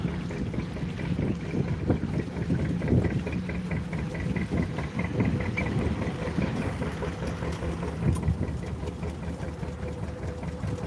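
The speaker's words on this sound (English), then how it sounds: "Windy all day today." A canal boat chugs along at a steady low idle, its engine a constant mid-range rumble with soft gusting wind noise buffeting the microphone, no voices heard.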